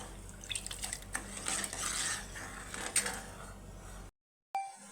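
Sugar syrup with cardamom and cloves bubbling in a pan for chhana bara, a soft steady seething with scattered pops and clinks, close by, cutting off briefly near the end.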